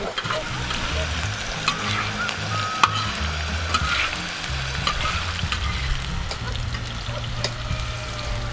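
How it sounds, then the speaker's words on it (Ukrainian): Carrots sizzle and crackle steadily in a frying pan outdoors while being stirred, with scraping and clinking of the utensil over a constant frying hiss and low background hum. "морква поки наша вже почала смажитися"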